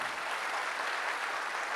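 Audience applause for a guest at a wellness company talk, a steady, dense wash of clapping that runs without a break through the whole short stretch.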